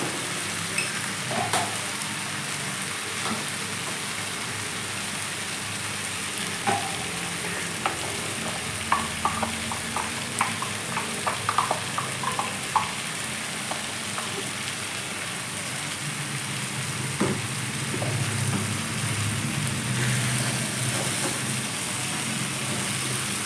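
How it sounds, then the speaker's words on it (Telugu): Ridge gourd curry with ground masala sizzling steadily in a pan for a long stretch, with scattered stirring scrapes and clinks of a spatula, dense in the middle and easing toward the end. "మనం గ్రైండ్ చేసుకున్న మసాలా ఉంది కదా అది వేసేద్దాం వేసేసి కాసేపు మిక్స్ చేద్దాం"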